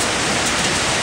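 Steady rain falls over Toronto as a dense, continuous hiss that fills the whole second, even and close, with no voices.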